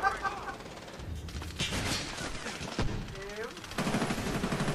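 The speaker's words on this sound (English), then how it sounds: "You're just randomly shooting, hoping that stray bullets will hit someone" Gunfire in the video game Medal of Honor Warfighter, a steady stream of automatic shots and bursts under ongoing talk.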